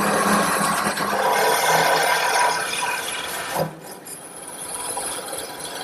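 A lathe duplicator's pointed cutter works a wood turning for a dressing table, making a continuous loud rasping, scraping cut that runs steadily, then drops off briefly near the end before a quieter grinding resumes.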